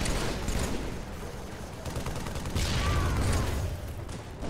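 Assault rifle fire in Halo, a busy, dense stretch of automatic shots and battle noise, loud throughout.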